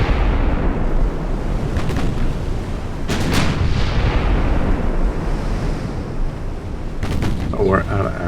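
Naval gunfire in the Ultimate Admiral Dreadnoughts video game: several heavy booming salvos, two sharp clusters standing out, over a constant rushing sea-like roar.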